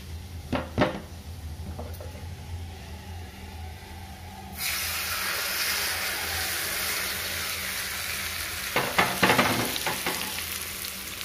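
Tempering of oil and fried chillies poured into ivy gourd chutney, a few clinks and scrapes first, then a sudden loud sustained sizzle that keeps hissing, with more utensil knocks near the end.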